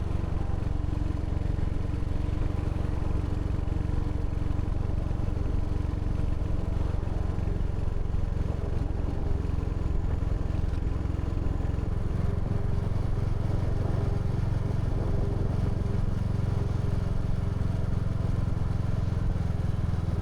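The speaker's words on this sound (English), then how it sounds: "so you can hear the sound of the engine a little bit more" A car engine rumbles steadily while driving, a low continuous drone with road noise that holds for the whole stretch, no voices.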